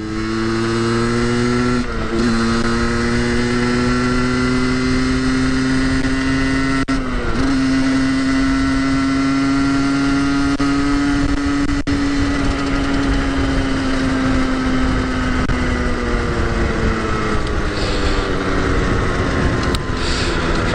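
A small motorcycle engine revs up and holds high RPM, its loud, steady buzzing drone climbing in pitch and staying close throughout, with no voices.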